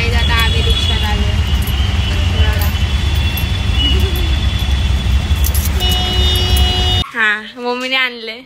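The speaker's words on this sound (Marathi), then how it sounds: "गाईज आता आम्ही रिक्षात आलो." An auto rickshaw ride brings a loud, continuous engine drone and road noise for about seven seconds. The engine noise then drops away, leaving a person's voice heard alone.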